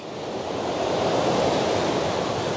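Ocean waves at the shore wash in and drag back over the beach at sunrise, a steady broad rushing hiss that swells slightly and holds, close and continuous with no voices.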